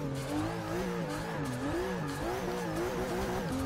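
Rear-wheel-drive Subaru STI in Forza Motorsport 6 revving hard, its engine note climbing and falling in loud, continuous waves with a hint of tire noise, no talk over it.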